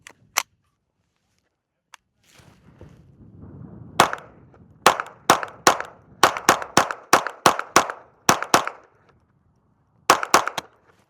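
A Ruger Charger 22 pistol fires CCI Mini Mag 40-grain .22 rounds: over a dozen sharp, loud cracks, mostly in a quick, uneven string, with a couple of isolated shots before and a short burst after a pause.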